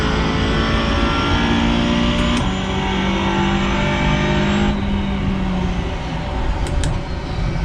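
A race car engine in a sim racing game drones loud and steady while driving, its pitch dropping a couple of times as it shifts or slows. No one speaks.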